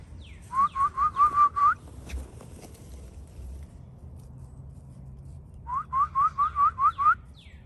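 A man named Dutch whistles two quick bursts of about six rising chirps each, the first near the start and the second near the end, with a quiet rustling gap between them.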